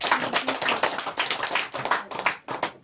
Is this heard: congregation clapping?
yes